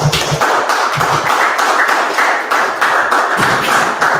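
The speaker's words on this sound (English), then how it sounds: "Clap it up." Rapid, dense clapping from a group of people, a steady loud patter of hand claps lasting several seconds with no talking over it.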